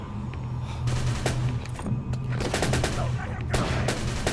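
Bursts of rapid gunfire crackle through a busy game soundscape in Call of Cthulhu: Dark Corners of the Earth, with rattling automatic volleys coming and going over a steady low hum.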